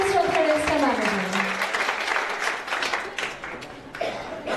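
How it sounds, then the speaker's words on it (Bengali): Applause for the registrar at a university fashion show, a broad wash of clapping that begins under a speaking voice and gradually fades, with talk returning near the end. "আমরা জোরে একটা করতালি হয়ে যাক আমাদের শ্রদ্ধা রেজিস্ট্রার ম্যামের জন্য"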